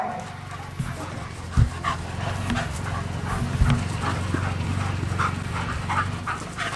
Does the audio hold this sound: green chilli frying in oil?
no